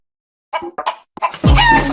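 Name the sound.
chicken clucking in TV ad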